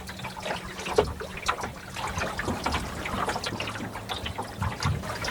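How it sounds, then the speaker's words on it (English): Water ripples and laps around a sailing dinghy on a calm day, with soft irregular trickling and gurgling splashes close by against a faint low hum. "All you can hear is the water rippling."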